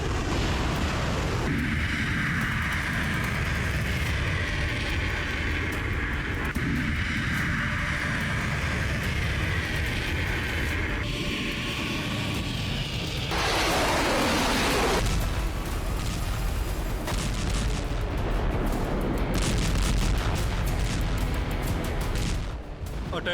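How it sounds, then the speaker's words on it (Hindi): Cluster bomb explosions in a war setting, a dense, continuous roar of blasts and rumbling booms filling the whole stretch, loud and sustained with no speech. "क्लस्टर बम एक दूसरे से 5 मीटर की दूरी पर गिरता है और जोरदार विस्फोट होता है।"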